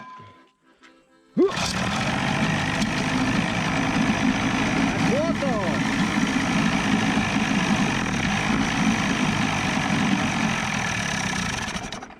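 An Evinrude 25 outboard boat motor, run in a barrel, catches after a quiet moment and settles into a loud, steady idle that continues to the end, with a brief voice over it.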